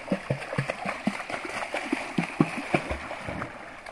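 River water splashing and gurgling around a swimmer in a shallow, slowing river, with irregular close splashes and paddling strokes over a steady flowing wash and no talk.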